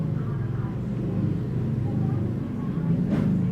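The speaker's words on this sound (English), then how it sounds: "outside there are some motorcycles with loud pipes." Dense peak-hour street traffic rumbles steadily outside, with low engine drone and loud-piped motorcycles blending into a continuous, fairly loud roar, and a brief passing whoosh near the end.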